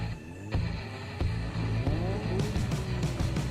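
Race cars launch side by side in a drag race in NFS Heat or Forza Horizon, engines droning loud and steady with rising revs and gear shifts, a thick close roar throughout.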